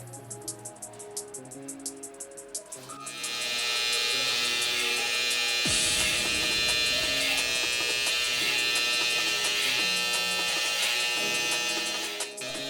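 A Babyliss black FX One hair trimmer buzzes steadily up close while setting in a haircut guideline, its whine starting softer and then holding loud and continuous, with the tone shifting slightly as the blade cuts.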